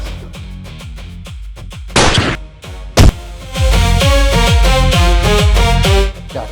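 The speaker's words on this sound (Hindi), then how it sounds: "चाचा, बहुत दिनों बाद गोली चलाई है" Gunfire in an Indian film scene: sharp loud bangs cut through a dramatic music score, one burst near the two-second mark and another crack around three seconds, followed by rhythmic music.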